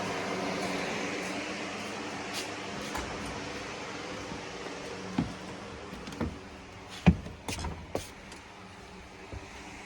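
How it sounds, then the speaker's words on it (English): A ventilation fan pulls air out of one side of a bus being fitted for air conditioning, a steady broadband whoosh held at moderate level throughout, with a few brief knocks and clicks toward the end. "This is the fan pulling air out of the other side of the bus."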